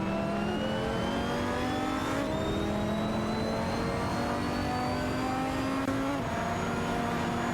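Racing game cars, including an Aston Martin DBRS9 and a Nissan 350Z GT300, accelerating with a steady high engine whine rising in pitch, several engines layered, continuous and loud with no talk.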